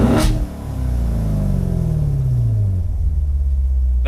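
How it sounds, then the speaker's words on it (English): A 2018 Corvette Grand Sport with active NPP exhaust in track mode gives a sharp loud rev, then a deep rumbling exhaust note that winds down steadily, close and alone. "This car has the active exhaust, I believe it's called the NPP exhaust."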